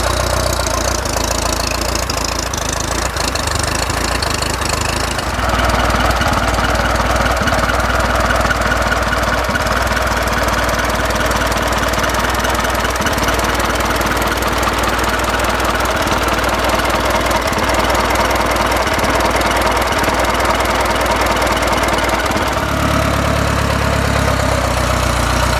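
An Indian Four motorcycle engine idles with no muffler, a steady, even mechanical chug that runs loud and close throughout and shifts slightly in tone near the end.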